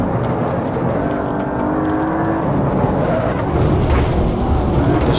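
Audi RS6 engine in Assetto Corsa VR racing, a loud steady drone with a rising harmonic pitch as it accelerates, running continuously throughout and staying close and prominent.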